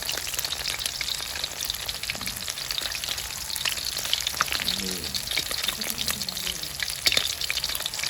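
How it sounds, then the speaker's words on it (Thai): Steady, dense sizzling of croaker fish frying in hot oil, coated in batter, crackling continuously throughout with small pops and spatters, close by. "ทอดไป สักครู่นะครับ เดี๋ยวปลาเขาเริ่มเปลี่ยนสีแล้ว"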